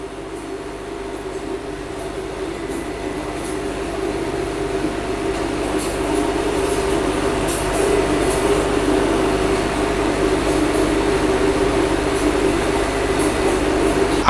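An Indian Railways WAG 12 electric locomotive runs with a steady, loud hum and rumble. A constant tonal drone sits over broad rolling noise that builds slightly and holds for about fourteen seconds.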